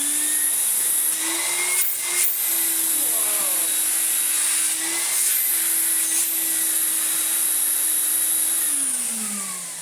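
A 1995 Numatic George GVE370 vacuum cleaner's pump runs with a loud, steady whine and hiss, wavering slightly and dropping in pitch as it winds down at the end.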